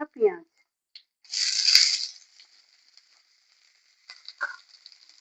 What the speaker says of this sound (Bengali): পেঁয়াজটাকে দিয়ে একটু হালকাভাবে প্রথমে ভেজে নেব।